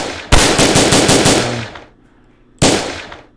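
Rapid automatic gunfire from the video game Lone-Wolf, a loud sustained burst of about a second and a half that cuts off, then another burst starts near the end.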